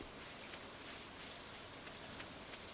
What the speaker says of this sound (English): It's raining, so that's nice.